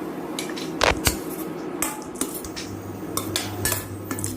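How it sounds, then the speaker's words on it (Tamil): Cauliflower sautéed with chili powder and garam masala for a cauliflower gravy, a metal spoon clattering and scraping against the pan in irregular knocks, fairly close, with no voices. "மிளகாய் தூள், கரம் மசாலா பவுடரையும் இது கூட சேர்த்து கொஞ்சம் 2 நிமிஷம் நல்லா வதக்கிக்கலாம்"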